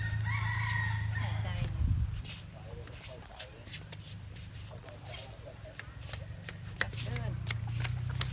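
A rooster crows briefly at the start over a low hum, followed by quieter rustling and scattered clicks.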